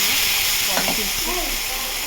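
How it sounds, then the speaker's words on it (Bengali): Lentil dal boiling in a pot alongside a Bengali home cooking session, a continuous steamy hiss with faint bubbling, steady and close throughout. "এই দেখুন ডালটা ফুটেছে"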